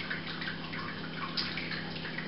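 Water streams steadily into a Robobrew brewing system, a soft continuous splashing and trickling with a faint gurgle, quiet and close by.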